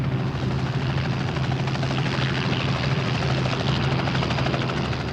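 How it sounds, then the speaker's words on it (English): A helicopter hovers near a fishing trawler at sea, its rotor giving a steady, fairly loud continuous thudding drone throughout, with no voices. "While the helicopter hovers near the fishing vessel"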